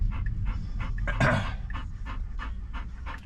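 A dog panting rapidly in a car, rhythmic close breaths in a steady series with one louder rustling burst midway, over a low engine hum.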